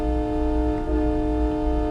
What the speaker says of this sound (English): That is the horn that comes with it. It is an actual, it sounds like a train horn.